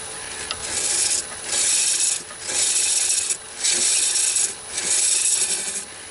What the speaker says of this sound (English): I'm just doming out the top a little bit with the round scraper.